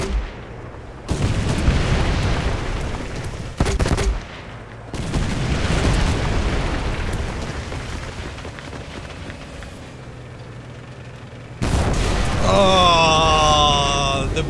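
Enemy tank cannon fire in a War Thunder tank battle: several loud, heavy booms at uneven gaps, each with a rumbling tail, followed by a harsh, ringing burst at the end.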